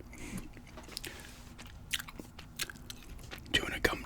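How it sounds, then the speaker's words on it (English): Gum is chewed close to a microphone in soft, irregular wet smacks and crunchy bites, quiet and intimate, with a couple of sharper snaps near the end and no clear speech over it. "Doing a gum chewing"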